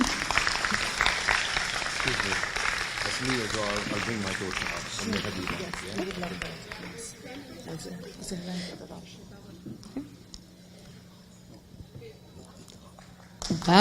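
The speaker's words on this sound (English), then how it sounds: "Give him a round of applause." Applause at an inter-faith commemoration gathering, loud clapping and crowd noise at first that thins and fades over several seconds into quieter room sound, with voices mixed in.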